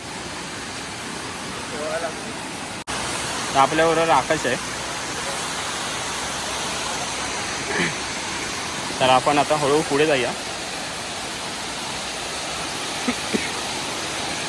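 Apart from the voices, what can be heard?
waterfall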